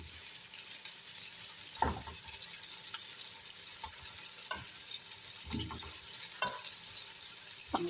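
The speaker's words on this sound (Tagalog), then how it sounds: "Iprito na nako na tanan ang patatas" Potatoes frying for maqluba give a steady, fairly quiet sizzle, broken by a few short clatters of stirring or utensils in the pan; no one speaks.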